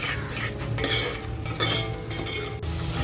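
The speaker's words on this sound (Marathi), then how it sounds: "बघा आपल्याला तेल सुटेपर्यंत आहे ना खमंग मसाला परतवून घ्यायचा आहे." Spatula stirring masala frying in oil for mutton curry, scraping and clinking against the pan over a steady low sizzle, close and continuous with a couple of louder strokes.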